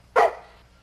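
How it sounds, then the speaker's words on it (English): A single short, sharp dog bark, close and fairly loud, followed by quiet. "One bark for yes, 2 barks for no."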